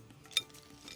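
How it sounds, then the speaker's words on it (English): A spoon stirring a smoking mixture with cherry wood chips, giving one sharp clink of metal against the container and then faint scraping, close and quiet without talk. "And stir to mix with a spoon."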